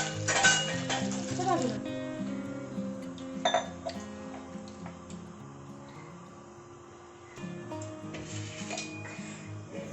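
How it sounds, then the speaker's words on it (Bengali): Skinless chicken pieces frying in hot oil, a steady sizzle with clinks of a utensil against the pan, loudest at the start and easing off. "আর একটু ওয়েট করো বেটা, এই তো মাম্মা ফ্রাই করছে।"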